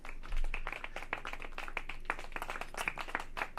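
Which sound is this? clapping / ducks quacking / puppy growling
clapping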